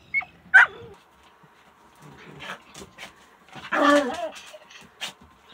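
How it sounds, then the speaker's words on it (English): A dog gives a few sharp barks and yips, with softer whimpering sounds between them, heard at moderate distance in a quiet room. "There's Candy barking."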